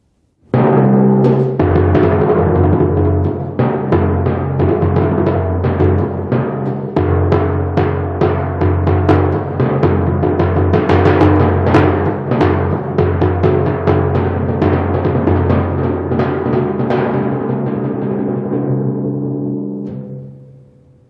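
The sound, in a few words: timpani etude played with frequent dampening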